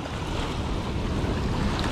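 Sea waves surging onto the shore at night on a UK coast during bass fishing, a steady, dense roar of surf with wind buffeting the microphone, continuous and fairly loud with no voices.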